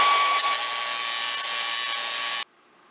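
A power drill fitted with a socket adapter whirs at a steady high pitch for a couple of seconds, then cuts off abruptly, leaving quiet.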